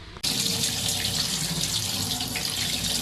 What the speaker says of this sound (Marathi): आता स्वच्छ पाण्याने त्याला धुवून घेणार